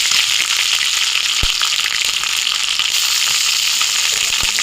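Loud, continuous sizzling of onions and spices frying in hot oil, close by, with a couple of sharp pops.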